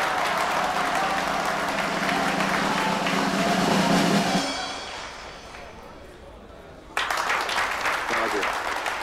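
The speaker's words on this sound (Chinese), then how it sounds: "请大家鼓掌欢迎。" A dance-hall audience claps for a singer being introduced, a dense burst of applause that fades after a few seconds before another round of clapping and noise rises, with voices mixed in.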